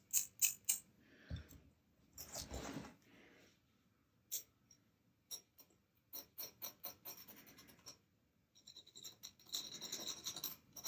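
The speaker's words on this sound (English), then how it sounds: "I'll just round off the front edges of the nut here so that they're" Scraping and filing on the front edges of a guitar nut on a Fender MIJ Telecaster during a re-fret, heard as short, quiet, irregular rasping strokes separated by pauses.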